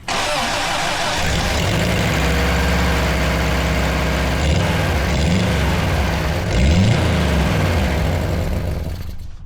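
An old Subaru engine idles steadily up close with a rough, puffing exhaust note from an exhaust leak that drones on without pause.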